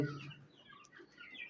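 Soft, irregular clucking from desi (native breed) chickens about forty days old close by, a few short calls scattered over a low background murmur.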